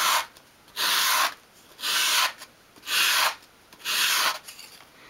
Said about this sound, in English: So just have your sandpaper on your worktop, hold the piece at an angle, and as you sweep it towards you